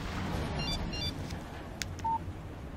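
A phone in Alan Wake sounds a text message alert: a few quick, faint electronic beeps, then a short, clearer tone over quiet ambient noise, with no talking.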